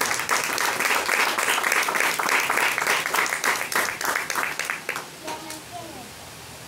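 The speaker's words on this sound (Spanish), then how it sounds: "Regálenmele un aplauso al Señor." Church congregation applauding, a dense loud burst of many hands clapping that thins out and fades toward the end, with a voice faintly audible underneath.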